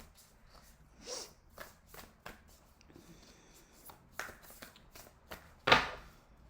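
Tarot and Moonology oracle cards are shuffled and handled in a quiet room, giving soft intermittent riffles, slaps and taps with one sharper snap near the end, faint and close.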